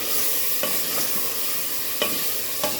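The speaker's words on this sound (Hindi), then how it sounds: "अब हम इसे अच्छी तरह भूनेंगे।" Mutton with garlic-ginger paste fries in hot oil with a dense, steady sizzle, close up, while a few soft scrapes of stirring break through now and then. No one speaks.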